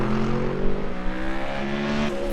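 Race car engine in the iRacing video game, a Ford or Chevy stock car, droning loud and steady with rising and falling harmonic pitch throughout, close and continuous with no talk.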